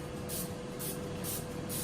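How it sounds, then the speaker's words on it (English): Pam cooking spray hisses into a small bundt pan in a kitchen, a series of short close bursts in steady rhythm with no talk. "Spray it with some Pam."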